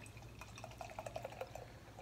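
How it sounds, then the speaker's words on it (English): Coffee stout beer poured from a bottle, a faint burbling trickle of liquid with soft glugging bubbles over a low background hum. "we're going to go ahead and crack it open, get a pour on this thing"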